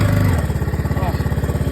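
Honda ATC185s three-wheeler single-cylinder engine idling up close after a barn-find revival, a loud steady putter with a rapid even pulse and a brief lower blip at the start.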